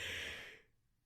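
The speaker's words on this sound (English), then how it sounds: "I just yawned" A yawn: a single drawn-out breathy exhale, loud at first and fading away over about half a second, followed by near silence.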